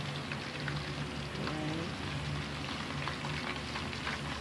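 Whole chicken deep-frying in hot oil gives a steady, close crackling sizzle that runs without a break from start to finish, with a faint low hum underneath.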